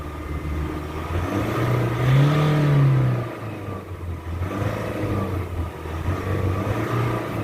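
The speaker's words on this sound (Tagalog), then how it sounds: "Tingnan nyo guys yung galit ng engine." Nissan Calibre engine with a throttle delay and sluggish running fault, revving steadily up to a higher pitch and then settling back, loud and close, with no talk over it.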